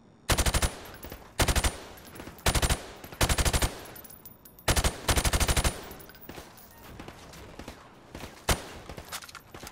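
Bursts of automatic rifle fire ring out at a firing range in Call of Duty: Modern Warfare, loud repeated volleys separated by short gaps, followed by a few scattered single shots.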